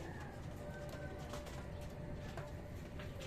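Racing pigeons at a loft, with a young visiting bird drawn to the flock, give soft cooing calls over a steady low background hum, continuous and fairly faint throughout.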